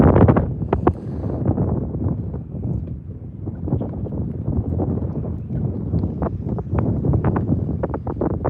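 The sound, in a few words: wind blowing on a lake during fishing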